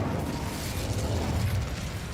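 An Incendio fire spell being cast in Hogwarts Legacy, a dense rumbling whoosh of flame bursting and roaring steadily throughout, loud and close, with no voices.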